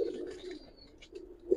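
Giribaz pigeons in Old Dhaka give short, low cooing bursts at close range, one at the start and another near the end, with quiet gaps between.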